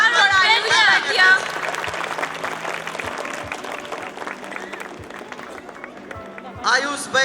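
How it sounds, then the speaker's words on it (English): Audience at a children's annual school concert applauds a young recitation competition winner, a dense wash of clapping with crowd murmur throughout, swelling again near the end. "Clapping, please. clap for Ayush Vaidya."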